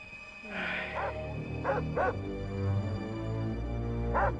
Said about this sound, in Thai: ดึกดื่นป่านี้ยังเห่าอยู่ได้เว้ย